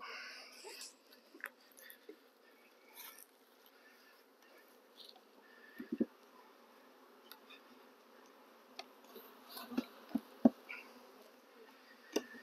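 A swarm of honeybees hums steadily at close range while a hive frame is inspected during queen grafting, with occasional louder buzzes as individual bees pass near.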